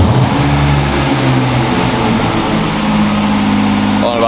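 A BMW E46 engine, warmed nearly to full temperature, is held at a steady raised speed of about 2000 rpm, giving a continuous, even drone heard close from inside the car, with no talking.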